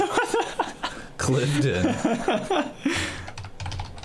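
Rapid clicking of keys on a computer keyboard during a casual podcast recording, heard close up under ongoing talk and bursts of chuckling.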